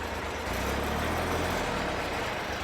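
A mini tractor's engine runs steadily in third low gear, a constant low mechanical drone with a broad hum and no voices over it.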